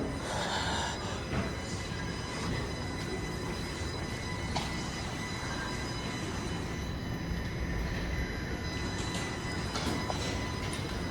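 A Line 1 subway train rumbles steadily through Vaughan Metropolitan Centre station in Ontario, with a broad roar of wheels and motors and a faint high squeal, no voices.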